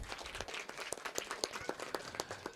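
Audience at a school annual day celebration clapping, a quiet, somewhat distant patter of many hands in a brief burst, with faint speech mixed in.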